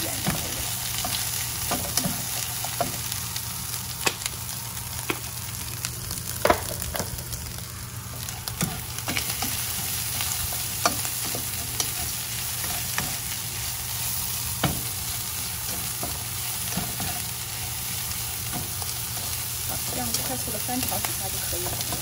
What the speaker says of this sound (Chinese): 翻炒几下就可以了